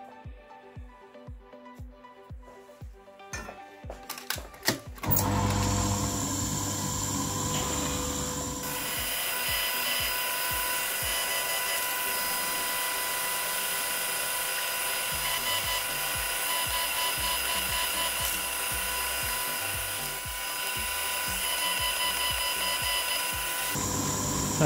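A milling machine motor winds up after a few rhythmic clicks, then runs steadily with a high whine and grinding as a 4.9 mm drill bores holes into metal.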